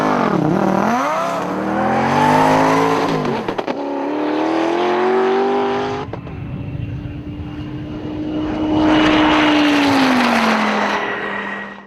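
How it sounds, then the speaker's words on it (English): Turbocharged 1,000-horsepower cars accelerating hard on a runway, engines rising in pitch through gear changes, then a sustained high whine as a car speeds past and fades, loud and close with no talk. "They're going to try and accelerate from rest to 200 miles per hour and back to zero in less than 30 seconds."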